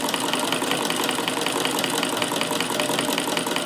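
Davis vertical feed sewing machine driven by an electric motor, running quietly and continuously at speed with a fast, even rhythmic clatter, close up and alone.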